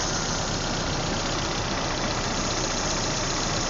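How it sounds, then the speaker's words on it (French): A car engine running at a steady idle with constant mid-range hum and vibration, loud and close, no voices, while the air conditioning is set to maximum cold during a DIY refrigerant recharge. "je démarre le moteur, je mets ma clim à fond en froid maximum"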